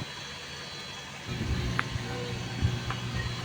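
A freshly overhauled engine, likely a DA52 or DA63 unit, starts up partway in and settles into a steady low idling rumble with a few brief clanks, close to the microphone.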